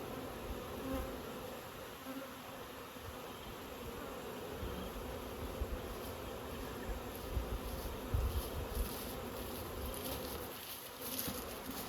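Bees buzzing steadily around beehives being moved by a beekeeper, a dense continuous hum from many insects, fairly close, with no talking.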